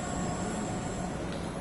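Continuous rumble and rolling wheel noise of a non-tilting train running in Train Sim World 5, steady and fairly close with a faint squeal, no talking.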